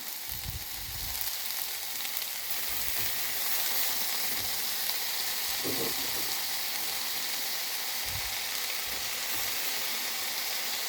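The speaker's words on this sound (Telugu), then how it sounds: "ఇప్పుడు బాగా దీన్ని ఫ్రై చేద్దాం" Fenugreek leaves frying with ginger garlic paste in a pan for a Telangana curry, with a loud continuous sizzle and hiss and occasional low thumps of stirring.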